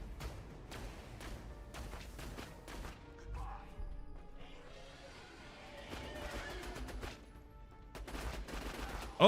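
Gunfire rings out during a Borderlands raid boss fight, a few sharp scattered shots amid combat clatter and game effects, with a voice talking at times.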